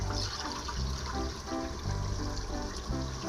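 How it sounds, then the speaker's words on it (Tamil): Coconut milk is poured into a pot of chicken biryani masala, a continuous gurgling, splashing stream with a few uneven surges, close and clear with no voices. "இந்த டைமில் நம்ம தேங்காய் பால்"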